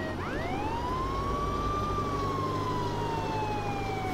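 A police car siren wails in the video game Contraband Police, one rising and falling tone sweeping loud and close over steady engine rumble, with no voices.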